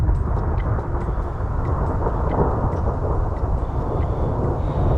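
Continuous rumbling thunder from an electric storm high on a mountain peak in Yellowstone, a loud, dense low roar rolling on without pause, with steady rain hissing beneath and no one speaking.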